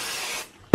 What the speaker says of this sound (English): I'm just going to spray a little bit on there.